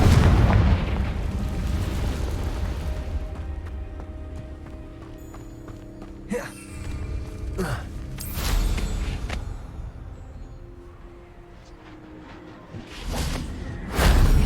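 Confringo spell explosions in the video game Hogwarts Legacy: several heavy booms burst out over rumbling game ambience with galloping and running footfalls, the loudest blasts landing midway and near the end.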